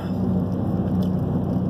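Steady rain with a low rumble of thunder falls at dusk beside a fishing dock, a dense continuous wash that is fairly loud and even throughout, with no voices.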